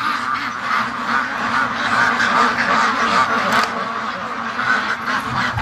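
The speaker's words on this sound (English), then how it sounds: "look at the ducks. They really want out. Really bad." A flock of free-range ducks quacking steadily and loudly together, a continuous overlapping chorus close by with no pauses.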